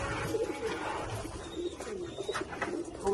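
Pigeons coo steadily inside a pigeon loft, several soft throaty calls overlapping close by against a busy background hum, with no talking.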